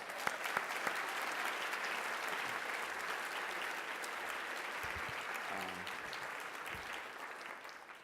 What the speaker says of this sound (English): Give me one more round of applause here.